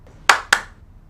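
Two sharp hand claps sound in quick succession in a quiet room, the way someone would clap to switch off the lights.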